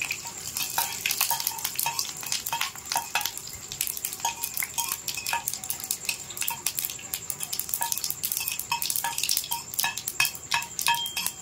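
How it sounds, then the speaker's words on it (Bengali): Mustard seeds and curry leaves frying in a pan for a semolina breakfast dish, giving a light crackle and sputter with spoon scrapes and clinks against the pan, close up and moderately quiet. "এটাকে আমি একটু ভেজে নেব, তাহলে কারি পাতা সরষের সেন্টটা ভালো উঠবে"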